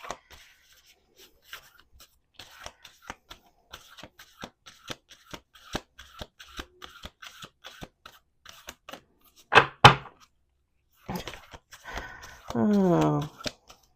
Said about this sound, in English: We're going to do some shuffling.